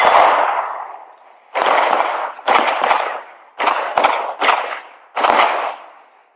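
A Sig Sauer P320 Subcompact 9mm pistol firing at a steel plate on an outdoor range: one shot, a pause, then five more loud, close reports, each ringing out in a short decaying tail.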